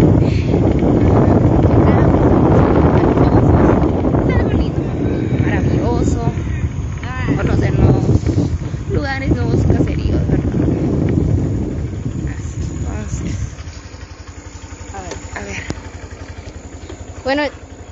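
Motorcycle riding with heavy wind buffeting the microphone, a loud continuous rush and engine rumble throughout, with people talking over it in Spanish.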